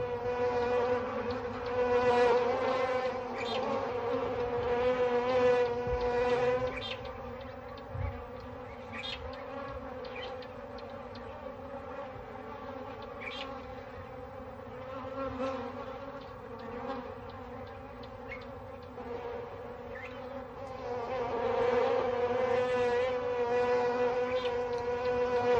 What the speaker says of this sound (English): When the lions move on, the bees go in search of new victims.